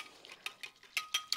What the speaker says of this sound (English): mix it with a fork